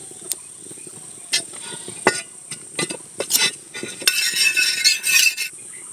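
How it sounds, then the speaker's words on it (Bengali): Oil goes onto a tawa griddle while mourola fish paturi is cooked in a village kitchen. A few sharp metal clinks come first, then a brief sizzling hiss builds and fades, with no talking. "এবার আমি তাওয়াতে খানিকটা তেল দিয়ে দিচ্ছি।"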